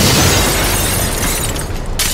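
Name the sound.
explosion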